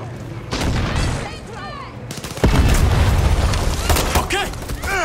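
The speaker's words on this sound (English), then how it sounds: "That's a tank." A tank fires in the video game Far Cry 6: one sudden heavy boom lands midway and rolls into a loud sustained rumble, with voices talking before and around it.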